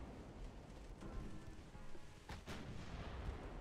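Naval guns fire a salvo in the warship battle game Ultimate Admiral Dreadnoughts, heard as faint, distant booms over a low, rumbling background.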